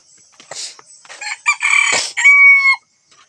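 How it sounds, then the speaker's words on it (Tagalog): Chickens cluck close by, then a rooster lets out a short, sharp crow; the sounds come in quick bursts before falling silent. "Itong mga manok ko dito."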